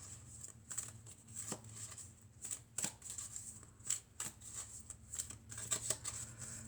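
Oracle cards from a Toi et moi deck being handled and shuffled, a close, quiet series of crisp riffling and sliding flicks in irregular bursts, with no talking.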